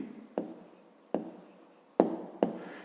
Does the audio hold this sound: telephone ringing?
no